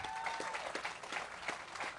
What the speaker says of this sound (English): So let's hear a round of applause for Rick Clunn.